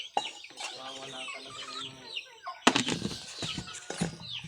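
Chickens at feeding time cluck and squawk nearby, with bursts of wing flapping, a quieter stretch of calls followed by a louder flurry of flapping and clucking.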